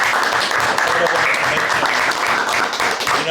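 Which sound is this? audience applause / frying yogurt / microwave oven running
audience applause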